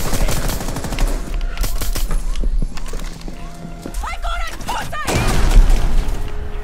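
Gunfire crackles in the tactical shooter Rainbow Six Siege, with bursts of rapid shots and clattering action sounds mixed under busy game effects, near and loud through most of the moment.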